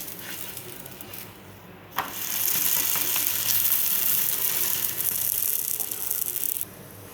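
Coconut boli frying in oil on a pan makes a steady hiss that starts suddenly, holds for about four and a half seconds, then cuts off, with a quieter background before and after.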